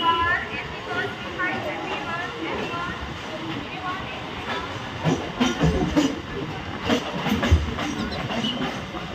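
A train pulls out of the old, historic Raniganj railway station on Indian Railways, giving a continuous rumble with rattling wheel and carriage noise. Voices of people nearby can be heard over it.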